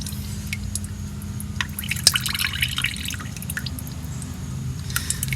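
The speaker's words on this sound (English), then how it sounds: "Looks like the oil's starting to ooze out now." Oil and water draining from a Porsche 914 engine during teardown, a steady close trickle with frequent small drips and splashes into a pan over low background hum.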